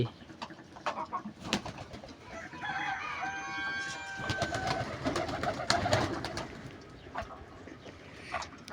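Giribaj pigeons cooing in a loft, with soft repeated coos and a rooster crowing nearby, plus scattered clucks and bird calls at moderate distance.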